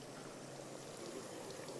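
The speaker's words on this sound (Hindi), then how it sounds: "यहाँ पे यखनी थी वो हम इसमें शामिल कर देते हैं" Yakhni, mutton stock, poured into a pot of mutton pulao, a faint continuous rushing pour with no pause.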